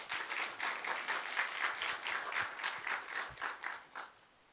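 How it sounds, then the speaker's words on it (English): An audience at a book reading applauds steadily for several seconds, moderately loud and even, then fades out at the end. "Let's give a round of applause to Elisa Melby as well."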